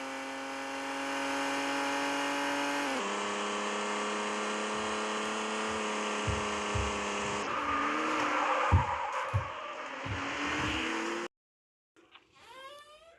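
A powerful car in a mobile racing video game, its engine a steady synthetic drone that shifts pitch as it accelerates, with brief thumps and tire-like squeals near the end before cutting out.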